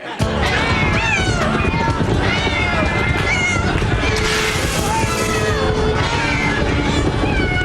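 Many cats meow and yowl at once in a stampede, a loud continuous chorus of overlapping cries with scuffling movement underneath, beginning abruptly and never letting up.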